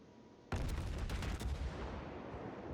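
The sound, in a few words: Mogami 155mm guns firing in World of Warships video game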